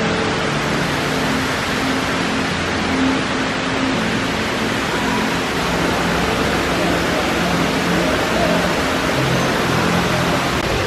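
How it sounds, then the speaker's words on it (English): Indoor waterfall inside Dubai Mall, a loud, continuous rushing roar of falling water that fills the space steadily throughout, with faint crowd murmur beneath. "Oh my gosh, it's a waterfall."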